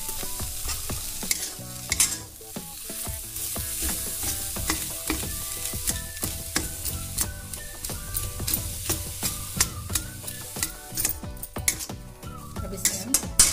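Aloo samosa filling with chili and coriander stirred in a pan, a dense run of rapid metallic spoon clinks and scrapes against the pan over a steady sizzle, close and continuous, with no talking.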